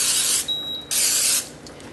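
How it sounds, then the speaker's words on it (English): Two short hissing bursts of aerosol cooking spray onto a waffle iron, close and crisp, with a brief pause between them. "now we're going to go ahead and we're going to spray."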